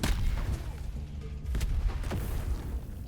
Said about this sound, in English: those little explosions have different timings